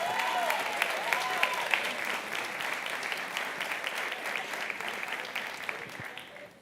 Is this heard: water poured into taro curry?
no